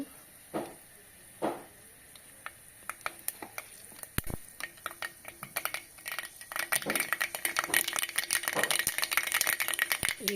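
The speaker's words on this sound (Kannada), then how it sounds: "ಒಂದು ಐದಾರು ಒಣಮೆಣಸಿನ್ಕಾಯಿ ಒಂದು ಸ್ವಲ್ಪ ಫ್ರೈ ಆಗಬೇಕವು" Dry red chillies fry in a pan: sparse clicks and rattles of stirring at first, building into a denser crackling sizzle toward the end.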